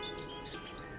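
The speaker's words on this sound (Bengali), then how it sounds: "পাখির কিচিরমিচির শোনা যাচ্ছে।" Small birds chirp in short, bright tweets at a homestay veranda in the East Sikkim hills, several quick calls over a steady outdoor hiss at moderate distance.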